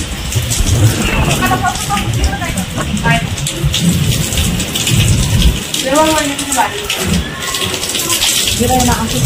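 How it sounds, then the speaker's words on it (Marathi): Heavy rain pours down steadily in a thunderstorm, with loud rolling thunder rumbling beneath it, while people talk over the downpour. "पाऊस"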